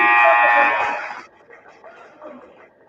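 A basketball game buzzer sounds at the end of a quarter in a high school game between Manistique and Engadine, a loud harsh tone lasting about a second, followed by crowd noise and murmuring.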